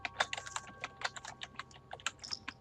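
Quick, irregular keystrokes on a computer keyboard clatter in short bursts, close and fairly quiet, with no talking over them.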